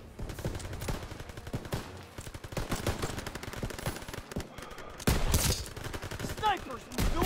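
Rapid machine-gun fire rattles in Call of Duty: WWII during a battle at a bridge over the Seine, with bursts layered over distant shots and explosions and occasional voices.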